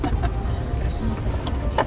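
A car rolling slowly up to a large building with silos, its engine a steady low rumble with faint mechanical whirring throughout, moderately close and continuous.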